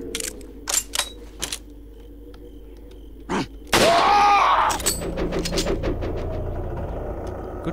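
Gunfire in the Resident Evil 4 video game: a few sharp single shots early on, then a louder burst of shots and impact noise that stays busy to the end, with no talk over it.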